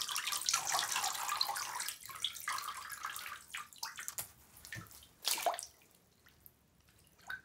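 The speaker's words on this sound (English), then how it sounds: "Look at the big splash it makes." Water sloshes and splashes in a bathtub as Webkinz plush toys are washed, a steady rushing wash that breaks into separate splashes and gurgles before quieting near the end.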